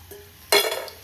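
Homemade kurkure snacks drop into hot oil for deep-frying, and a sudden loud burst of bubbling sizzle erupts after a quiet moment, then fades slightly while staying close.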